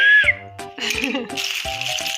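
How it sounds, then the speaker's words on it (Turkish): A toy whistle shrills briefly at the start, then rattling and crinkly plastic handling sounds follow with a couple of short squeaky bursts. "Çal bakayım bir daha düdüğü"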